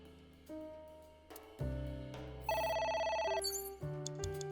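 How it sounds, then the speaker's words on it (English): A phone rings in the video game AI The Somnium Files, a loud electronic trill over the game's background music and tones, with the ringing swelling in the middle of the stretch. "A phone. Should I pick it up?"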